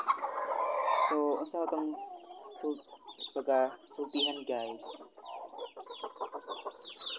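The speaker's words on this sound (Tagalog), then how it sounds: "Pasensya na din mo sa among mga manok diri sa bod guys kay perting banhaan nila guys." Backyard chickens cluck and chirp repeatedly around someone speaking close by, their clucks mixing with and continuing past his talk.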